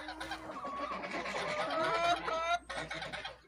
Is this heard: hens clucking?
yes